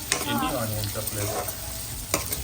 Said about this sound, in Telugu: ఇలాగ సన్నగా చాప్ చేసి పెట్టుకొని ఇలాగా ఈ ఆయిల్లో ఫ్రై చేయాలండి